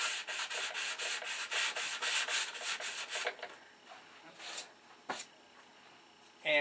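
Primer on a P47 Thunderbolt scale model is sanded by hand in quick, rhythmic back-and-forth strokes, close and crisp, then the rubbing slows to scattered lighter scrapes.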